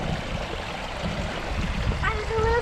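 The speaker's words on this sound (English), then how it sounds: "Look at these beautiful waterfalls." Steady rushing water from waterfalls at a zoo and aquarium fills the clip as a continuous broad roar, with a brief tonal squeak or call near the end.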